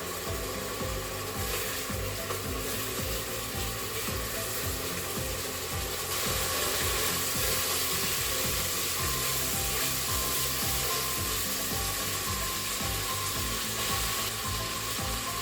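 Bacon frying in a pan for carbonara, a dense continuous sizzle and crackle held at a constant level throughout, close and without talking.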